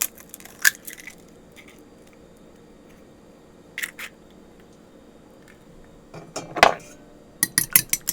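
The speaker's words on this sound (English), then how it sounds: "gonna crack an egg." An egg cracked for onion ring batter: a few sharp taps against a bowl, then a louder crunching crack of shell, followed by quick clinks of utensils, all close and with no voices.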